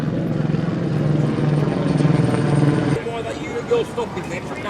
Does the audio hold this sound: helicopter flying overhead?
yes